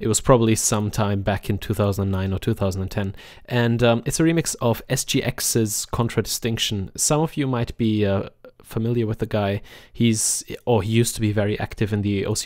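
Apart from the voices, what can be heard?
No everyday noises stand out.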